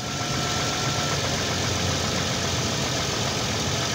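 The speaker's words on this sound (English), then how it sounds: "Let's try it with the engine running." A Ford Explorer engine idles at a steady, rough rumble, close by and unchanging throughout.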